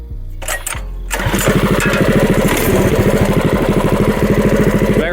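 A Predator 212 engine fitted with a 21mm PWK carburetor on a Monster Moto minibike, loud and close, rises from a rough low idle into a faster, steady, pulsing putter as the idle is raised.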